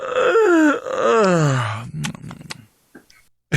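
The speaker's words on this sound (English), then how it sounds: "He's just yawning." A person yawns in a long, drawn-out voiced groan that rises and falls, followed by a few quieter breathy clicks and small mouth noises, close and fairly loud.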